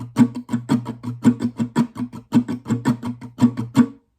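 Acoustic guitar strumming a song with the optional strums added, a steady unbroken run of about sixteen close, even strums with no pauses or voices.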